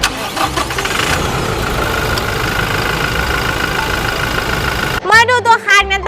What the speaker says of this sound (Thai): สตาร์ทติดง่ายเดี๋ยวเราไปฟังเสียงเครื่องยนต์กัน